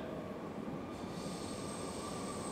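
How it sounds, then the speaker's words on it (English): A passing train gives a steady, rumbling roar with a faint high wheel squeal. It sounds moderately distant and continuous, with no speech. "Hello, train."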